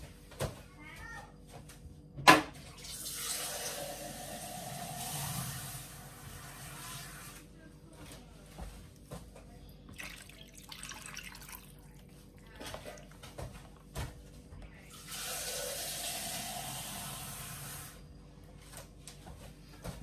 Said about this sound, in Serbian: E, sada ću da stavim još vode.